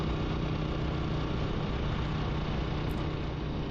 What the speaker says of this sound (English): I noticed that the idle had become a little rougher than it had been when I set out